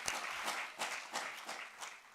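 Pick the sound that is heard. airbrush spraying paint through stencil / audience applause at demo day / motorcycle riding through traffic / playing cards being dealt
audience applause at demo day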